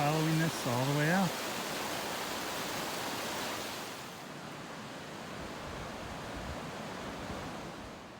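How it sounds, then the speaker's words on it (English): The Hoh River in Olympic National Park rushes along as a steady broadband roar of flowing water, with a person speaking briefly over it at the start before the water carries on alone. "This is the Hoh River, and we will be following this all the way out."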